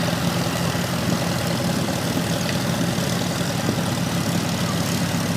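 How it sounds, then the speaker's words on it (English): A 1945 tractor with a 70 horsepower four-cylinder gasoline engine running in an outdoor parade, a steady low rumble and drone held evenly throughout, with no speech. "This tractor has a 70 horsepower, 4-cylinder gas engine, and is the largest of a series of 3 standard models"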